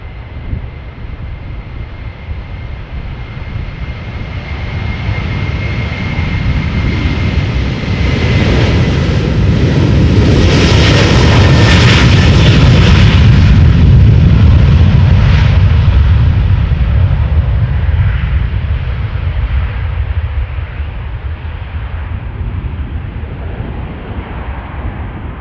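A Wizz Air jet departs runway 36L at Amsterdam Schiphol, its engine roar swelling to a loud, broad rumble as it passes, then slowly fading into the distance without speech.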